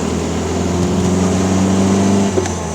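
A 1969 Volkswagen Buggy engine pulls steadily in second gear, a loud, close droning hum that holds through the clip with a brief dip near the end.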